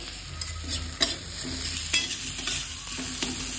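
Garlic goes into a pan of browned, fried onions and is stirred, giving repeated scraping strokes over a continuous close sizzle.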